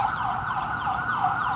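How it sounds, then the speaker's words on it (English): An ambulance siren wails in a steady rising-and-falling cycle, moderately loud and close, heard alone without talk. "It's an ambulance, it's not even police."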